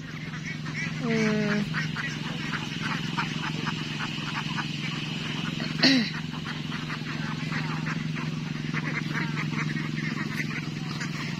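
Domestic ducks kept on a farm in the Philippines call out, with a couple of clear honking, quacking cries rising above a constant low hum and a busy outdoor background of faint chatter.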